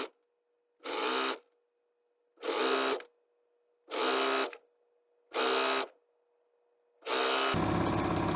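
A sewing machine stitches a tube closed along a twin bed sheet in four loud, evenly spaced bursts of about half a second each, with brief pauses and a steady hum between them, before a final continuous run.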